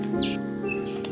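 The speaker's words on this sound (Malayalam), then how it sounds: "ഒത്തിരി പക്ഷികളുടെയൊക്കെ നിർത്താതെയുള്ള ചിലചിലാന്നുള്ള ചിലപ്പ് കേൾക്കാൻ പറ്റും." Birds chirping on a morning walk past red hibiscus flowers, short high tweets standing out over a steady background hum, moderately close and unaccompanied by talk.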